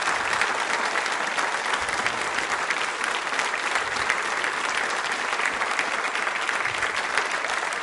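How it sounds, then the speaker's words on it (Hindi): Students and audience at a school quiz show clapping for themselves, an even, steady patter of many hands lasting the whole stretch at moderate loudness, with no talk over it. "तालियां जोरों से बजाइए अपने लिए एक बार"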